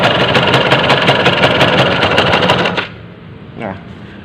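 A modified Yamaha F1ZR Force1 motorcycle engine idles nearby with a fast, even putter for a few seconds, then drops away abruptly, followed by a short mechanical sound.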